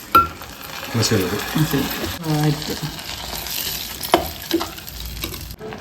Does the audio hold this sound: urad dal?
yes